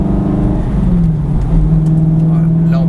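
A car pulls out of a chicane on a race circuit and accelerates, its engine note climbing steadily and loud, while someone talks over it.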